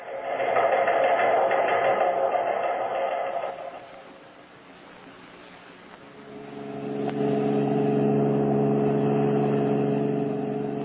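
Car driving toward Kansas City in an old-time radio crime drama, an engine hum with whining tone that fades down and then swells back up into a steady droning run, no voices over it.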